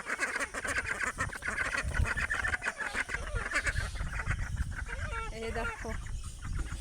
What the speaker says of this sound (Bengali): হাঁস মুরগিগুলো খাবার জন্য পাক পাক করছে